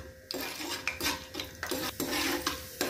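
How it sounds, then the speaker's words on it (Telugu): Chana dal frying in oil is stirred with a metal spoon, repeated close scraping strokes against the pan in an uneven rhythm over a soft sizzle, with no voices. "దాన్ని ఇలా కలుపుతూ ఫ్రై చేయాలండి."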